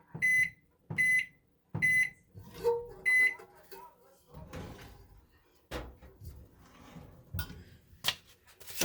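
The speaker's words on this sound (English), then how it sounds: "I started the microwave." A microwave oven, used while sublimating 20oz skinny tumblers, gives a few quick keypad beeps, then door clunks and soft handling noises follow, with a person talking quietly in the background.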